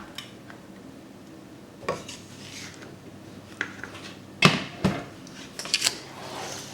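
Water, sugar and figs being stirred in a pot for no-pectin fig jam, with a spoon scraping and clinking against the pot in scattered knocks, louder near the middle, with no talk.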